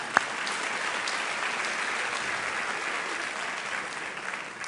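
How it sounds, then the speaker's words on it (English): A round of applause from the audience at a borough address event, a steady crowd of clapping hands sustained evenly throughout, with a brief sharp knock near the start. "Let's give them a round of applause."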